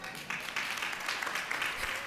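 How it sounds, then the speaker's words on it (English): Applause from an audience at an annual women's forum, a steady wash of clapping across the whole moment, moderately loud and sustained without a clear voice over it. "Round of applause for that."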